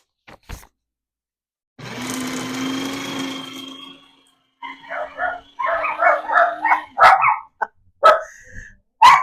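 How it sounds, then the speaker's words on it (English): A long droning tone gives way to a run of dogs barking, sharp yips and barks coming in quick bursts, close and loud. "That set off the dogs."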